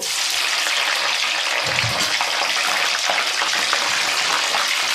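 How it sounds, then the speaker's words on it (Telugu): Slit green chillies fry in hot oil for Gobi 65, giving a dense, unbroken sizzle that stays loud and even throughout with no voices. "ఇది బాగా వేయించుకున్నామండి"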